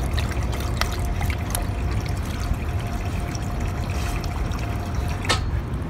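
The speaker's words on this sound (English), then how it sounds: "What's cool about this park is it's like a water fountain, so if she gets thirsty, she can drink lots of water." A water fountain at a rooftop dog park trickles in a steady, close stream of running water, with a few faint clicks and taps over it and no talk.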